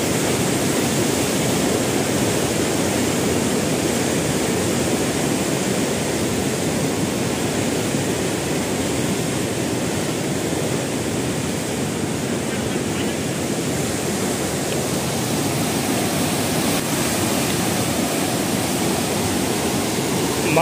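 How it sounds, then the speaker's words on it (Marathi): The flooded Godavari river rushes at full pressure after heavy rain in Nashik district, a loud, continuous broadband roar of water that stays unbroken and close throughout. "फुल प्रेशरने जात आहे। यावर्षी पहिल्यांदाच पाणी वरती चढलंय।"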